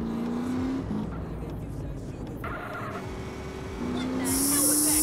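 Engine drone of a car driven in the video game GTA San Andreas Definitive Edition, a steady motor hum with rising whine and pitch shifts as it steers and speeds up, alongside other game sounds.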